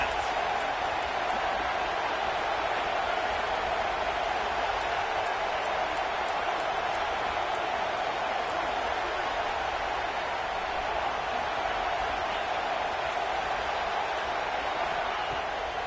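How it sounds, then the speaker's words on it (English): Steady, dense roar of a college football stadium crowd, a continuous wash of cheering and noise at constant loudness for the whole stretch with no breaks. "This crowd trying to make life miserable for this offense."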